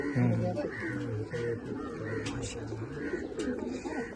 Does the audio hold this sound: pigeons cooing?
yes